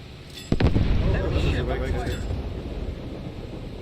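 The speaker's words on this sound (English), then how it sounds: "The enemy ship sank. Wow, that just exploded." Enemy warship blowing up during a naval battle game, a sudden sharp blast followed by a rolling, crackling rumble that slowly fades, with voices talking over it.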